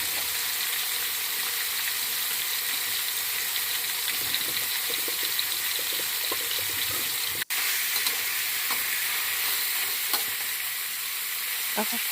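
Pork and squid stir-frying for pad kra pao, a steady close sizzle and hiss running throughout with scattered spatula scrapes and clinks against the pan, one sharp knock partway through.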